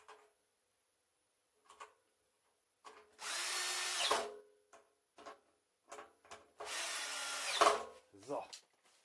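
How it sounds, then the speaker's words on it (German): A cordless drill-driver tightens screws while a battery charger with jump starter is assembled, giving two sustained whirring runs of a few seconds each. Clicks and handling knocks sit between them in an otherwise quiet room. "Ich ziehe das jetzt einfach kurz mit dem Akkuschrauber fest."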